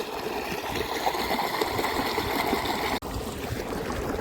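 Irrigation water flowing through a farm field, a loud, continuous gushing and trickling rush that drops out for a brief moment near the end before resuming, with no voices.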